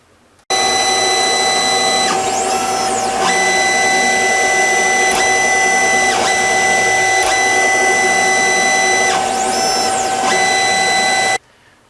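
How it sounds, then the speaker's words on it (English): An Anycubic Chiron 3D printer running auto bed leveling: a loud constant fan whir with steady tonal stepper driver hum, plus periodic clicks and two rising-falling motor whines, starting and stopping abruptly. "I'll show you a small video of the auto bed leveling. From there, you can hear the noise level. It comes from the fan, also the step driver."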